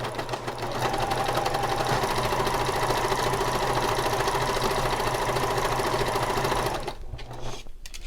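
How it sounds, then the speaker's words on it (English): A sewing machine runs steadily, sewing long gathering stitches for a pillow sham. Its loud, even mechanical whir carries on for almost seven seconds, then stops abruptly, leaving a quieter background. "just start sewing all these long gathering stitches"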